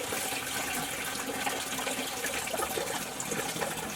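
Coolant pours steadily from the radiator of a 1997 Dodge Ram van into a bucket, a continuous splashing trickle heard close up with no talking.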